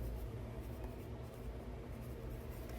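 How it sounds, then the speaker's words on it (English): A pen writes by hand in a journal as a steady, close, continuous scratching drone that runs throughout without pause, with no voices present. "I'm gonna write down morning."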